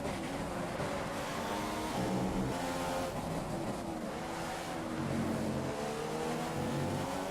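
A Williams Formula 1 car's engine in the F1 2015 racing game on PS4 at Hungary, a loud, continuous high-revving whine that climbs and drops through gear changes with no pause.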